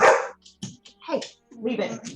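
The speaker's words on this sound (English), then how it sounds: "Sorry about the dog." A dog barks in short bursts close by, mixed in with a person speaking to it in a quiet indoor room.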